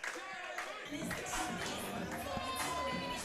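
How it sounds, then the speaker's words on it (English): A wrestling show crowd chants for a wrestler, a dense rhythmic roar of voices with claps mixed in, steady and loud throughout. "Listen to this crowd picking up the chant for Chadwick Wentworth III"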